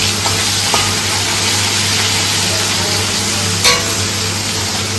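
Moya fish frying in a kadai on a gas stove, with a loud, dense oil sizzle running steadily throughout and a few brief crackles and spits, no voices over it.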